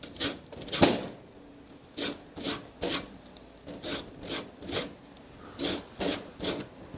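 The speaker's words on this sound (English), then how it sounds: "I'm going to use the grater and we'll just get some lemon zest" A lemon is rubbed against a kitchen grater for zest, producing quick scratchy rasps, about a dozen short strokes in a steady rhythm, close and crisp with no talking.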